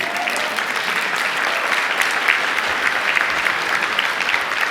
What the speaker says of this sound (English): You should clap for that.